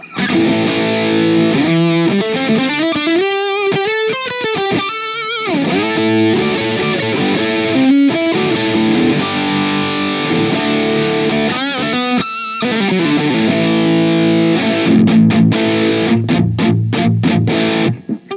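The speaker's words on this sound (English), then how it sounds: "let's switch over to that and give you some high gain lead tones" An EVH SA-126 electric guitar on the bridge pickup plays a high-gain lead through a PRS MT15 amp, loud distorted sustained notes and fast runs with brief pauses, alone without talk.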